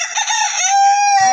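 A chicken from a village household flock in rural Bangladesh crows loudly and close by, one long drawn-out call with a rough start and a sustained tonal finish.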